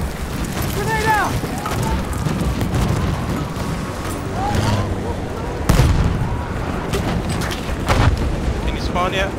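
A thrown grenade detonates in Battlefield 1 during a busy fortress battle, one sharp explosive crack rising out of constant rumbling gunfire and distant blasts, with faint voices in the mix.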